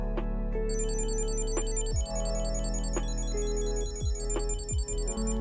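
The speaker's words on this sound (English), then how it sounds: "This is how the card rings when you've lost your wallet." An Ekster wallet tracker card gives a lost-wallet alert, a continuous electronic ringtone made of a repeating melodic chirping pattern. It plays close and steady for several seconds with no talk over it.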